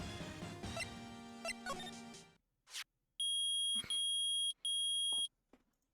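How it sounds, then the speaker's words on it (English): Metal detector beeping in the video game Phoenix Wright: Ace Attorney, a loud electronic tone sounding in two long bursts after a brief musical cue, close and clear with no talk. "Beeping, the metal detector found something."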